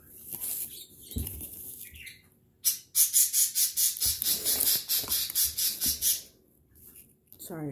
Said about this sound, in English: Sorry for my birds.